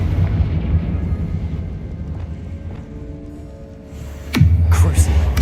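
Confringo spell blast in the Hogwarts Legacy game: a steady low rumble and murmur build to a sudden loud burst near the end, followed by booming, crackling impacts.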